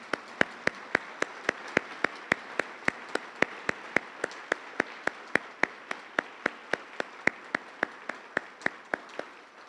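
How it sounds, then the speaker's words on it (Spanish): Rhythmic, evenly spaced claps at an award ceremony, a sharp regular beat of about three per second that runs unbroken for nearly ten seconds. "un caluroso aplauso"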